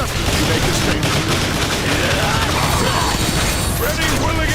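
Dense, relentless gunfire in the Transformers: War for Cybertron video game, with rapid bursts, mechanical clatter and whirring layered together loudly, while a voice speaks over the barrage.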